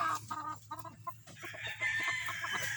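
Breeder chickens cluck in short repeated bursts, with a rooster-like call rising near the end, over steady farmyard background noise.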